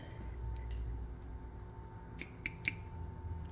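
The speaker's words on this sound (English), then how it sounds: "I used my garden snips" Garden snips cut through small wooden pieces in a woodworking shop, three sharp metallic snips in quick succession, close, over a low background hum.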